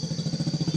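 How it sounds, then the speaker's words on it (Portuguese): A motorcycle is ridden close by, its small engine giving a steady pulsing putter at idle-like revs, moderately loud against a faint high whine. "Meu irmão andando com o Ravi na moto"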